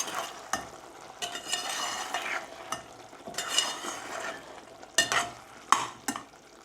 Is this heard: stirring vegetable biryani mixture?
yes